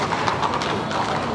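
Hooves of a team of two 3- to 4-year-old Morgan Percheron cross horses pulling a buggy in a parade, a busy clip-clop of steps under crowd noise.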